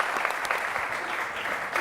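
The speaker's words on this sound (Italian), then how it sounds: "Allora, ringraziamo Beppe Bifido, facciamo un applauso." Steady audience applause at an Italian televised show, a continuous wash of many hands clapping throughout, without voices.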